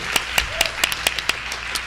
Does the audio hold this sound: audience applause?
yes